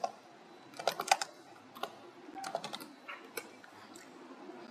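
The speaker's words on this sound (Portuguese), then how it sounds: "a gente vai digitar" Typing on a computer keyboard, close quiet key clicks in irregular bursts, several quick clusters of keystrokes separated by short pauses, with no voices present.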